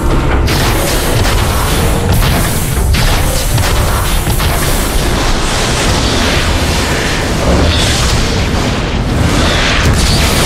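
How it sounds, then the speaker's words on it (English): Loud, dense explosions rumble and crash continuously as the warp cannon is destroyed in the video game Transformers: Fall of Cybertron, a sustained wall of booming blasts with no talk. "Metroplex, take out that warp cannon!"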